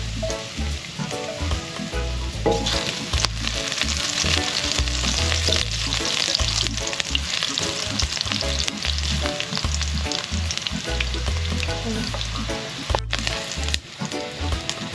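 Garlic frying in a little cooking oil for pancit canton guisado, a steady close sizzle with crackling spatter that runs throughout, over a thumping music bed and without talk.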